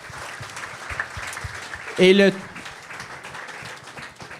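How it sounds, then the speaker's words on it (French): Audience applause rolls through a live podcast taping at the Frontenac, mixed under a speaking voice, with a short, louder burst of tone near the middle. "Gros applaudissement à eux."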